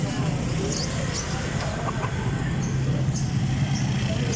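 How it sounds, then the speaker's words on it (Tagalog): Chickens cluck amid a busy, noisy live-animal market selling pigeons, chickens and other pets, with people talking nearby and traffic rumbling in the background. "May mga manok din, oh"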